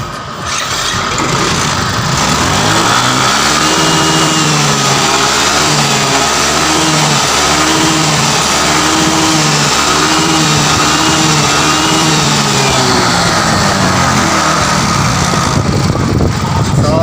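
A Yamaha Mio Soul i 125 scooter, wired directly after a harness repair, starts and runs loud and close, its engine revving up and down in repeated swells throughout with no talk over it.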